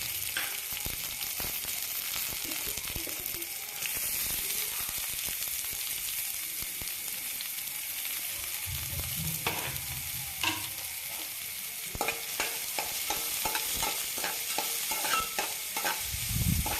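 Onion and red chilli frying in a pan for Cabbage Manchurian, a constant bright sizzle up close, with rhythmic stirring scrapes growing busier toward the end, no voices.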